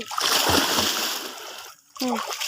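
Water splashing sharply in a pond as fish thrash, a loud burst of splatter that fades, with voices talking briefly over it.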